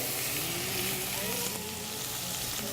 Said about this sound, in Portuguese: a gente vai dar uma fritadinha nesta carne, tá? Então, olha, carne na panela.